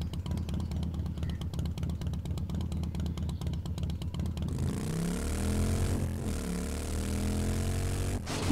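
A motorcycle engine in the video game 7 Days to Die hums with a steady, buzzing drone that shifts pitch as it rides, loud and continuous with no talk over it.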